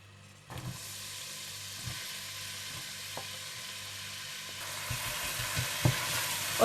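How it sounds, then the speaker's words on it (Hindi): Ground garlic and onion sizzling in hot oil, a steady close hiss with a few stirring knocks and a surge of frying noise toward the end. "सबसे पहले आप तेल गरम कर लीजिए, और इसमें डाल दें आप पिसा हुआ लहसुन और प्याज"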